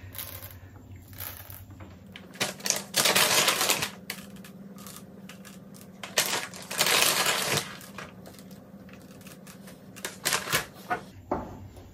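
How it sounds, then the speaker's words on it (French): Chocolate drops fall into yogurt cake batter in bursts of crisp rattling and pattering, several clustered spills separated by quieter pauses, close and fairly loud. "je vais leur mettre un petit peu de pépites de chocolat"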